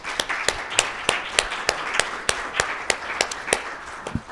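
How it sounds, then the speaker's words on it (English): Panel presenters at a flood history session get a round of applause, heard as a spread of sharp, fairly regular claps from a modest audience in a room, with no talking over it. "let's give the presenters a round of applause."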